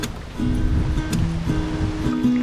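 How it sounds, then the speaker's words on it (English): Strong wind blowing by the water at a creek preserve, a loud, steady broadband rush with faint rustling throughout and no voices. "the wind has picked up a lot"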